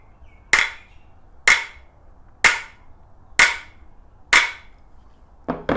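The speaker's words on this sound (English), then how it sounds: "hit the middle of the head with a hammer or a mallet" Five sharp hammer taps on the head of a Japanese hand plane, evenly spaced about a second apart, close and crisp, followed by a couple of quicker light knocks.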